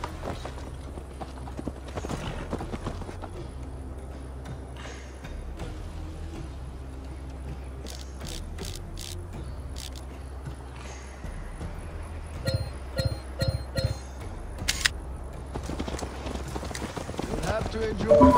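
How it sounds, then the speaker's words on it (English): Steady, rhythmic clip-clop of horse hooves during a ride in Assassin's Creed Valhalla, continuing throughout beneath spoken dialogue between characters. "Mount up, Eivor. It's a long ride to Tamworth."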